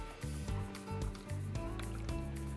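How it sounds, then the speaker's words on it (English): A floating chlorinator for an above-ground pool filling with water after being dropped back in, giving bubbling, gurgling liquid sounds in uneven surges, close by and fairly loud. "Let it fill up with water, and it'll start floating around again."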